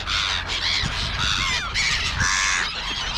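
Several crows caw outdoors in a run of harsh, repeated calls, loud and fairly close, with no voices heard.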